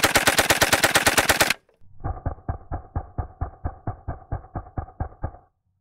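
PPS 43-52 submachine gun firing 9mm rounds outdoors, one loud rapid burst of about a dozen shots, then after a short pause a second, more muffled burst of evenly spaced rapid shots.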